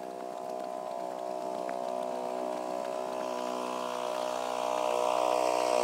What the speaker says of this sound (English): To go and turn off the pump now.